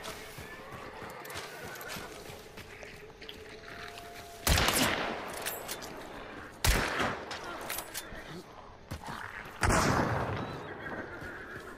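Gunfire in Hunt: Showdown: several sharp, loud shots ring out at intervals over a quieter ambient bed of rustling and movement, each with a short decaying tail.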